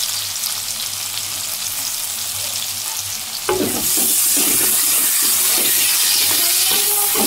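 Onions fry in a generous amount of hot oil in a pan, a loud continuous sizzle that jumps sharply as more goes in, followed by crackling and stirring sounds.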